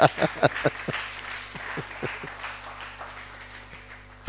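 A church congregation claps in a loose rhythm of sharp, separate handclaps. It starts with a quick cluster and then spreads out into steadier, sparser claps over a low background hum.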